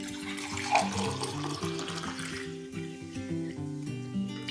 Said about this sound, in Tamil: ஒன்று ரெண்டு மூணு மூன்றரை டம்ளர் தண்ணி விட்டுருக்காங்க